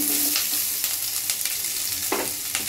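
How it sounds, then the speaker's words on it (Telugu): Onions fry in hot oil with whole pulao spices, giving a constant crackling sizzle close up, punctuated by several brief scraping stirs of a spoon. "ఉల్లిపాయలు ఇలా బ్రౌన్ కలర్ వచ్చినట్టుగా వేపుకోవాలండి"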